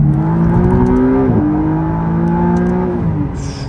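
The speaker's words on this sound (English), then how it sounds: "Internal combustion engine on straight away." A McLaren's combustion engine starts and drones loudly and close, its pitch stepping up and dipping as it revs, then settling.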